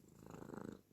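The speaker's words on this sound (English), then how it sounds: "Listen to this purr." A cat purrs close to the ear, a soft, steady rumbling flutter with rhythmic pulses, heard alone without any voices.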